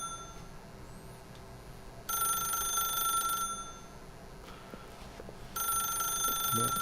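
A telephone rings in the video game The Stanley Parable, two loud bursts of bright repeated ringing separated by a quieter stretch of steady room hum, with no talking.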